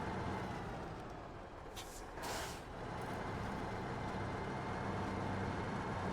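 Heavy truck driving in a winter-road trucking video game set in Michigan, rumbling low and steady with a short hiss burst like an air brake in the middle, no voices.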